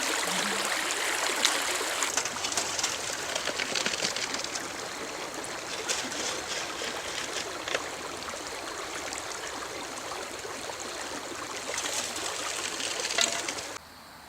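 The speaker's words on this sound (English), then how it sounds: "It's nothing better than being out on a creek" Water flows steadily along a Georgia creek at a gold-prospecting site, a close, continuous rushing and trickling that holds an even level throughout, with no talk.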